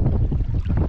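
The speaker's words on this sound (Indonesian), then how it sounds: "Keadaan sekarang angin di Tasik Kenyir ni sangat-sangat kuat." Strong, gusting wind buffets a kayak on Lake Kenyir during a stormy expedition, a loud low rumbling roar of wind noise filling the brief moment.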